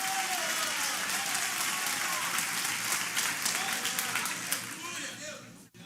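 A church congregation applauds loudly for several seconds with sustained, dense clapping that fills the room. The applause fades slightly just at the end.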